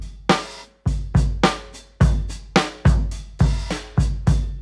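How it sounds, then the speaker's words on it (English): A 1950s-style drum kit from a Native Instruments virtual instrument plays a loose, roomy pattern of about a dozen punchy hits with ringing cymbal wash, close and alone. "I've loaded up an instance of Native Instruments 50s drums"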